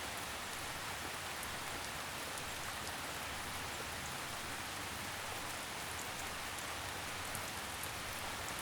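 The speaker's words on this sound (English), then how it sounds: "gently guide it back to the sound of the rain, the whisper of the leaves" Steady rain falls through a forest, a dense, even hiss of drops pattering on leaves and branches that continues unbroken and close throughout, with no voices.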